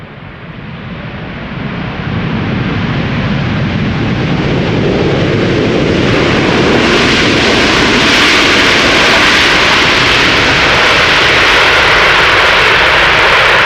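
A ten-year-old Boeing 747-8 jet airliner at Schiphol Airport roars loudly and steadily, with a continuous broadband engine rush that swells over the first seconds and then holds near and powerful, no talk.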